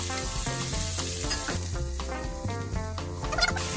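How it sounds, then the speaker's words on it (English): Onions sweating in hot oil in a pot for a pork blood stew give a steady, close sizzle that runs continuously beneath a tonal musical backing. "I'm just gonna add my oil in a hot pot, dump in my onions, and I want this to sweat"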